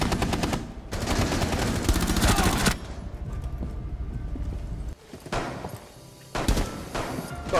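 Pistol fire in Rainbow Six Siege rings out as loud, close, rapid sharp shots in dense bursts, with a quieter stretch of game ambience in between before the firing resumes.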